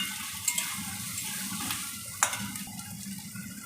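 Food stirred in a pan with a little water added, heard as a faint, low simmering hiss broken by a few soft utensil clicks and scrapes.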